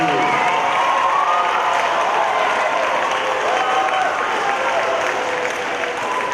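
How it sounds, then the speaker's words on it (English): An elementary school audience at a Veteran's Day celebration applauds and cheers for teachers, sustained loud clapping with voices and shouts rising through it over six seconds. "So can we give a big round of applause to all of our teachers at Lower Gwynedd?"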